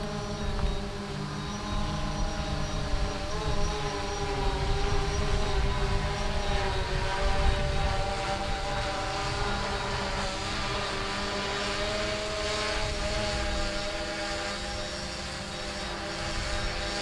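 An FT Aviator RC plane climbs to altitude, its electric motor and propeller giving off a steady buzzing drone with a sustained whine, constant and fairly loud throughout.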